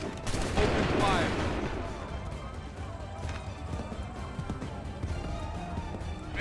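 Soldiers fire musket volleys in the video game Assassin's Creed 3, a loud burst of massed gunfire up front that trails into scattered, fainter crackles and battle noise, with voices calling out over it.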